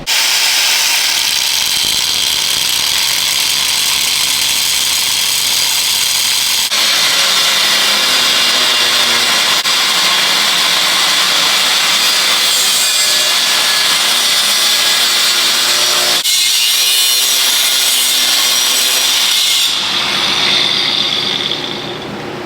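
A power saw grinds through metal near a GM truck's pitman arm in a loud, continuous cut up close, its pitch shifting a few times before winding down at the end.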